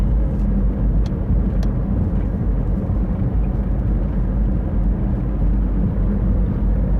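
A car driving down a rural road at sunrise, heard from inside as a steady, loud low rumble of engine and road noise that holds constant throughout with no talking.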